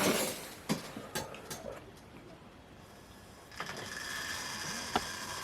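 A Bachmann or Hornby model locomotive reverses along the track with a soft mechanical whir and a series of light clicks and ticks over rail joints, quiet and close, rising slightly toward the end.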